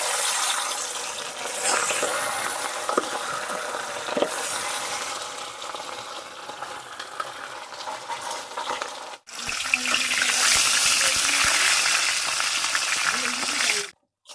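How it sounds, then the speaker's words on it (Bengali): Marinated rohu fish frying in mustard oil in a wok, a loud, steady hiss and spatter close by that briefly cuts out, then surges again as more pieces go in. "একে একে মাছগুলো আমি দিয়ে ভেজে নিচ্ছি"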